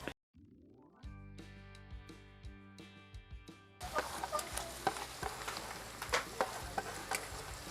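Onions frying in hot oil for a Kerala ulli theeyal curry: a few seconds of tonal music, then a steady, close crackling sizzle with occasional sharper pops through the rest of the clip.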